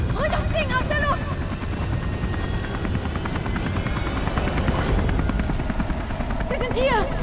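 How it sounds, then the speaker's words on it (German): Helicopter rotor chopping steadily throughout in the video game Beyond: Two Souls, loud and close, with people shouting in German and voices over the din and occasional game effects. "Helikopter!"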